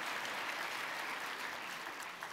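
Continuous dense clapping from a crowd at a political speech, a full wash of applause holding steady throughout the short stretch.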